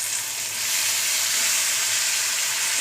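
Tomatoes dropped into hot turmeric tempering fry with a loud, continuous hissing sizzle that swells after the first half-second and holds steady, close up and without talk.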